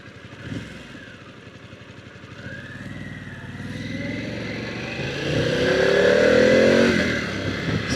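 A 2024 Harley-Davidson Pan America motorcycle rides along, then makes a U-turn, its engine note rising and swelling as it accelerates back out, steady and close with wind noise.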